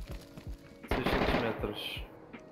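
Unsilenced gunfire in the Nyheim survival shooter game, a dense roaring burst of loud shots lasting about a second among scattered smaller pops, with voices murmuring underneath.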